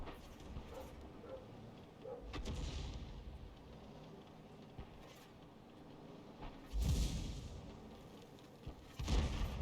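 Tank cannon shots boom in World of Tanks, a few heavy, separated blasts with sharp onsets and rumbling tails, set against a quieter battle background, with no speech.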